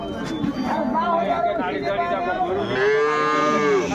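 Cattle mooing at the Ambari livestock market in Dinajpur, Bangladesh, with several loud drawn-out moos close by, the last one long and rising, over the chatter of a crowd of people talking.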